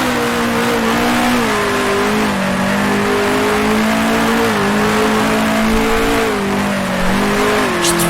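A 1966 Formula One car in the Grand Prix Legends racing game revs hard and loud through the gears around Monaco, its engine note rising and dropping with each shift, steady and close throughout.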